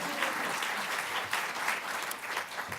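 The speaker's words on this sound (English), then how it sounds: "you can clap for Kathy" Audience applause for Kathy Sims at a career services advocacy gathering, a steady wash of many hands clapping, moderately loud and continuous with no voices over it.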